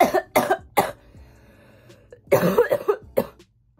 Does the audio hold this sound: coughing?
yes